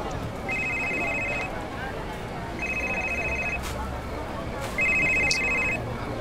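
A telephone rings in three evenly spaced electronic bursts, each about a second long, bright and steady over a murmur of room sound.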